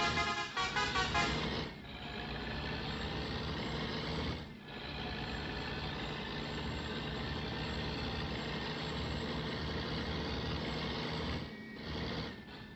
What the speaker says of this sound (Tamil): இன்ஜின் சவுண்டு கேட்டுங்க.